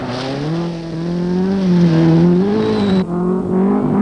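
Datsun rally car driven by Rauno Aaltonen crossing the Bellinger River ford during the 1977 Southern Cross Rally, a loud steady engine drone with rising and falling pitch, close and continuous, with a brief dip near the end.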